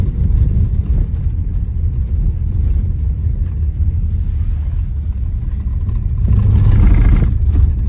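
A Tesla Model Y rolls along a rural gravel road in western Colorado, a steady low rumble of tires and road noise filling the cabin, swelling slightly near the end.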